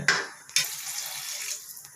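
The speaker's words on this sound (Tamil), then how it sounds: "உங்களுக்கு எவ்வளோ தேவையோ அந்தளவு தண்ணி ஊற்றிக்கிங்க" Water poured into a pot of chicken gravy while cooking, a close, steady splashing stream with brief breaks, loud at the start and settling into a continuous pour.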